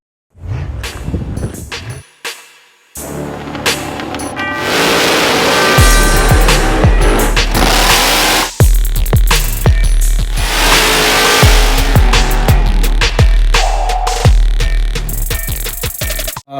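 A VE SS LS ute engine fitted with a Holley manifold, running rich on its first start-up, revs loudly and continuously up close with sharp throttle blips and bursts, after a brief quieter stretch near the start.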